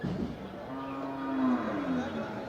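A Kangayam native breed cow moos at a busy cattle market, one long drawn-out low call rising and falling, close and clear over a background murmur of the crowd.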